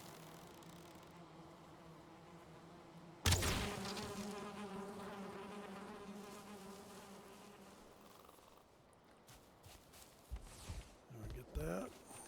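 Bees in the video game Valheim give off a steady droning buzz, joined by a sharp thud partway through and light footsteps and rustling near the end, with no talk.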